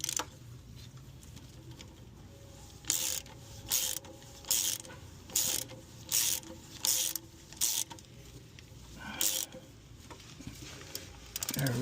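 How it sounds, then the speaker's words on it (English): Ratchet clicking in short repeated bursts as it turns a bolt on the starter of a 1984 Chevy S-10 Blazer, close and sharp over a steady background hum, with brief pauses between strokes. "let me hit that ratchet and see what happens"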